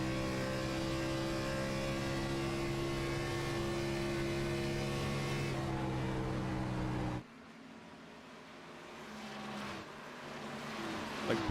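Race car engine in the iRacing sim at Atlanta, a steady high-revving drone with strong harmonic tones that drops abruptly partway as revs fall, then builds back gradually.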